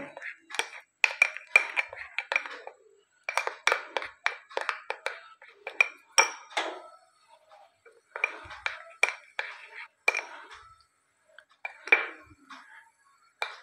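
Utensil clinking and scraping against a bowl while potato batter for batata kapa is mixed, in irregular bursts of quick taps with brief pauses, close and moderately loud, without talk.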